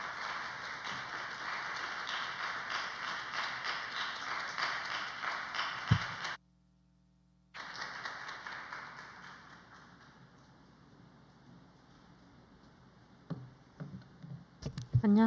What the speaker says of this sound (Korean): 우리 큰 용기 낸 우리 차련자에게 격려의 박수와 또 기대의 박수로 모시도록 하겠습니다.